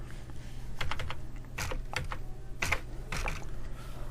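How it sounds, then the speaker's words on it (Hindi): Close, fairly quiet bursts of computer keyboard typing as a login ID is entered, with brief uneven clusters of key clicks and short pauses between them. "यहाँ पे मैं लॉगिन ID लगाने जा रहा हूँ।"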